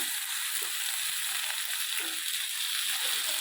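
Tomatoes tipped into a pan of onions fried red, sizzling with a constant bright crackle, close and steady, with faint stirring knocks beneath.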